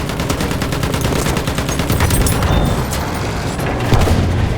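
Machine gun fire in Battlefield 1 on the Somme map, rapid sustained bursts of rattling shots, loud and close, over a thick battlefield rumble of distant gunfire and explosions.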